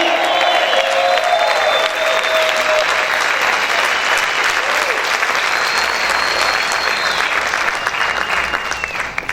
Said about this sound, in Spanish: Si yo fuera usted, aplaudiera más fuerte al Señor. ¡Aplaude!